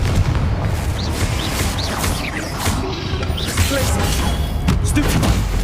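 Fire-spell blasts of Confringo in the Hogwarts Legacy video game go off as dense booms and crackling impacts over a constant loud battle din with mechanical clatter.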